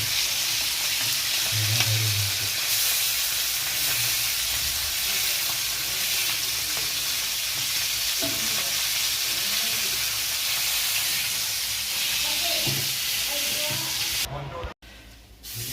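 Spicy masala fish frying in a pan, a steady dense crackling sizzle running throughout with occasional stirring clatter, brief faint voices in the background and a short drop near the end.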